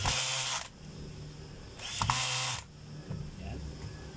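Two short whirring bursts from a power driver tightening the brass brush holder screws on a Makita 4131 7-1/4 inch circular saw, loud and near, separated by a quieter pause with faint handling noise.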